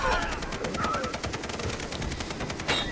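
Rapid automatic gunfire from the video game Far Cry 3, a steady stream of shots filling the whole stretch at fairly close range, with a few fainter game sounds mixed in.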